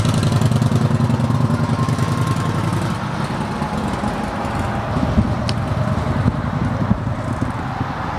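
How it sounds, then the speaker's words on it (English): A 2016 Indian Springfield motorcycle with true dual Freedom exhaust and fishtail tips idling close by, a loud, steady, throbbing V-twin rumble with no talk over it. "This bike has Freedom exhaust, true duals with the fishtails on it. It's pretty loud"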